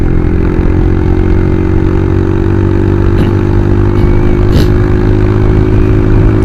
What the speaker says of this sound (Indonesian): saya mungkin bisa coba nih akselerasinya di sini karena ini jalan lurus